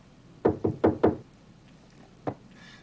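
Four quick, firm knocks on a door in a steady rhythm, then a pause and one more single knock, moderately close in an otherwise quiet room.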